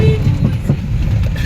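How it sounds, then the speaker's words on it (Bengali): A passing train rumbles steadily and close by on the edge of Dhaka near Uttarkhan and Dakshinkhan, its low continuous roar filling the whole short stretch. "দেখেন ট্রেন দেখেন।"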